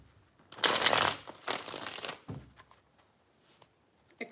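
Tarot cards shuffled by hand, two bursts of papery riffling and crinkling followed by a few faint taps and rustles, close and fairly quiet with no talking.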